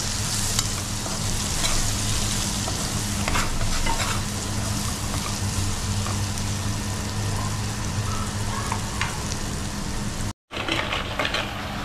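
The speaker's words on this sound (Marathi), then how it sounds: "तिखट बोलतो त्याला आपण, गरम मसाला वगैरे, हळद, असं सगळं ढवळून घ्यायचं." Chilli powder, garam masala and turmeric stirred in a hot pan for crab curry, giving a steady, close sizzle with scraping stir strokes throughout and a brief dropout near the end.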